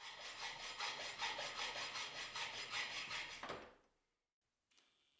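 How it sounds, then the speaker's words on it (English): Hacksaw cutting metal T-track to length: rapid rhythmic back-and-forth strokes, close and fairly loud, stopping abruptly partway through, followed by a brief quiet and a faint tonal hum. "I then trim the T-track to length with a hacksaw so it fits flush inside the dado."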